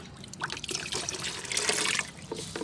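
Diluted banana liquid fertilizer is poured onto potted plants, a close, uneven trickle and splash of liquid running for a few seconds.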